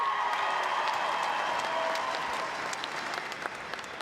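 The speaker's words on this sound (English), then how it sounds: "give her a big round of applause" Steady applause from an arena audience greeting a player at a netball championship final, dense and sustained at a constant level for the whole stretch, thinning slightly toward the end.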